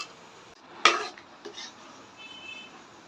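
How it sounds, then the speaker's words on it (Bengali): A karahi pan is set down on the stove with a single sharp metallic clank, followed by a fainter scrape and a brief ringing tone in a quiet kitchen. "এবার আমি কড়াইটা চুলায় বসিয়ে ভালো করে জাল করে নেব।"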